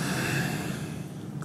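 A long, breathy exhale during a kundalini yoga exercise, one steady airy rush lasting a second and a half and fading slightly at the end, close and alone.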